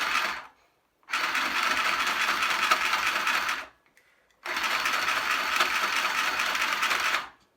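A sewing machine stitches fabric in a home setting, running in two long, steady whirring bursts of about two and a half seconds each, separated by a short pause, loud and close with no talk.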